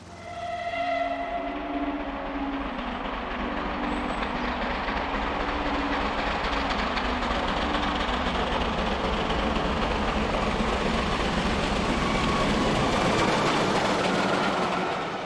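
Steam locomotive Taw Valley toils uphill, a loud continuous roar of rail noise and engine with a low drone, close and steady throughout, with a brief whistle-like tone at the start.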